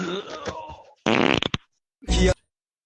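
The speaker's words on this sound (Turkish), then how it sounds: "o osuruğu bilir misin" Two loud, close farts, one long and sputtering and one short and blunt, follow a brief stretch of speech-like sound, with silence between them.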